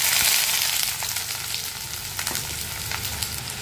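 Onion, ginger and garlic fry in hot coconut oil with mustard seeds for a tomato curry, a loud, steady, close sizzle with faint crackles and a few light stirring taps.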